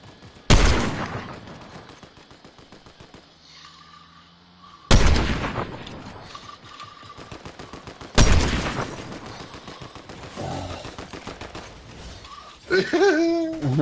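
Fortnite gunfire rings out in three loud sudden bursts spaced several seconds apart, each fading into quieter game noise, with a voice briefly heard near the end.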